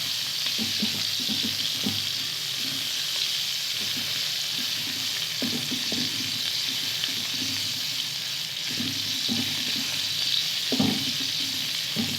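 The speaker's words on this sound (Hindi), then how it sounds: "और ऑयल डालकर हम थोड़ा सा इसको हिलाएंगे। हल्का सा फ्राई करेंगे इसको।" Food frying lightly in oil in a pan while being stirred, a steady close sizzle with repeated scraping and clattering strokes of the stirring utensil throughout, no voices.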